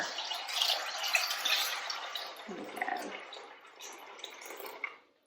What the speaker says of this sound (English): we're just gonna add enough water to cover